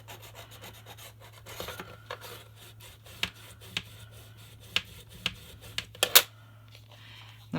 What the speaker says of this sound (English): Rub it down so it adheres good.